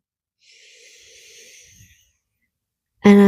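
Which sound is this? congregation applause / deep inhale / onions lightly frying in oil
deep inhale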